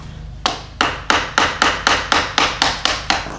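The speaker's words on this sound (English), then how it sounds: "I'm just going to take either a chisel or a crappy screwdriver, hammer on the other side" Ten sharp metallic hammer strikes on a chisel ring out in a steady, even rhythm, close and loud, with no talking, while freeing a U-joint.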